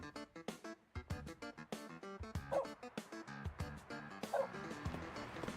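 Small cartoonish dog in the Waterpark Simulator game yapping and whimpering in a quick run of short barks over looping background game music.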